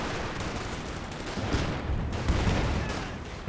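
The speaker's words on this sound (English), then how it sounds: "I can't believe it survived that volley from the rifleman" A dense, continuous crackle of rifle fire from a rifleman squad's volley in the World War II strategy game Company of Heroes 2. Overlapping shots roll on without pause over a rumbling battle bed.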